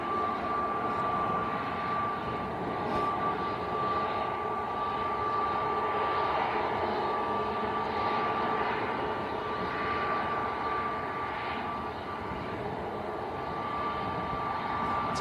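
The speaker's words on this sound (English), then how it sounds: "EgyptAir's coming down our favourite taxiway. KLM from Amsterdam's landed on the other side as well." Steady broadband roar of jet airliners at an airport, an EgyptAir airliner rolling along a taxiway while a KLM plane from Amsterdam lands nearby, engine noise continuous and fairly loud with a sustained whine, no voices.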